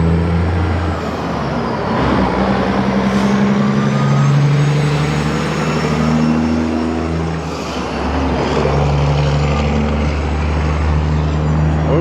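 A big, loud truck passes close by on a road, a heavy engine drone building and fading over several seconds, with a brief air-brake-like hiss, heard from an electric trike without any talk.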